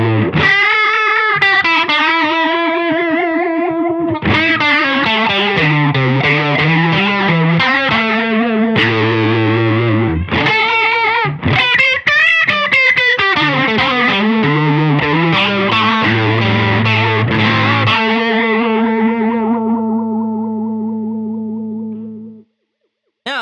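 Electric guitar driven through a DOD 250 distortion into an Asheville Music Tools AFG-1 swirling phase pedal, sustained overdriven chords sweeping and warbling continuously, loud and alone, ringing out to a fade at the end.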